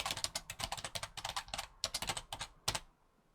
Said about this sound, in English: To post a comment or question you just type in the box here